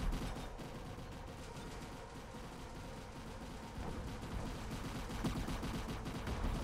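Gunfire in a naval combat video game, a dense, continuous rattle of shots and distant booms under a steady low rumble, fairly quiet throughout.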